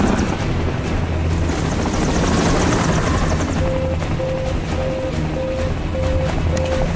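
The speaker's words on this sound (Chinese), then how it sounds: "气流过大，飞机状态保持困难。" Rescue helicopter in a Hollywood action film, hovering during a mudslide rescue with strong turbulence: a loud, continuous rotor roar with a rhythmic beeping alarm joining partway through.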